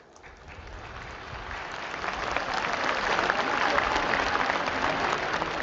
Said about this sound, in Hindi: भूटान में बैठे लोगों ने जोर जोर से ताली बजाई है